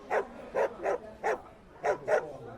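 Cartoon dog Brian Griffin barking in a courtroom, six short clipped barks in an uneven rhythm, close and clear with no talk over them.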